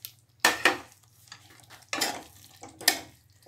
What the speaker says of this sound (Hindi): इसको अच्छे से हिलाएंगे।